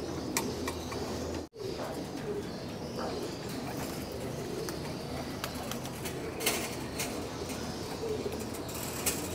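Pigeons in a loft aviary give low, steady cooing throughout, with scattered faint calls and a brief thud near the start, no one talking over them.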